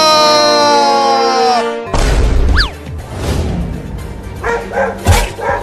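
Dogs barking and yelping in a rowdy outdoor scene, with sharp, loud barks and whimpers coming in bursts after a tonal whine at the start.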